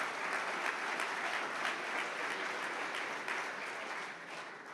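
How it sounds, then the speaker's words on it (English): Conference audience applauds steadily and fairly loudly throughout a hall at the opening session, a dense continuous clatter of many hands that thins slightly at the very end. "So I applaud."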